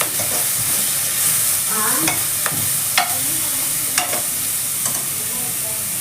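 Fenugreek leaves fry and sizzle steadily in a pan for a methi chicken fry, with a continuous hiss broken by several sharp scrapes and clinks of a spatula stirring, close and fairly loud.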